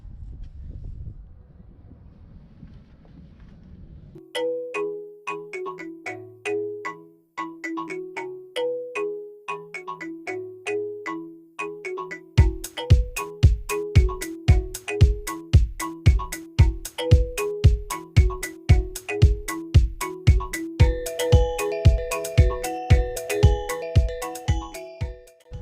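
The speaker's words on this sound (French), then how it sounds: "Il se peut que vous entendiez du bruit, c'est normal, il y a une fête foraine à côté." Funfair noise from a nearby fairground: low wind-like rumble, then a loud electronic ringtone-like melody over a steady pounding beat that grows busier and brighter toward the end, with no talk.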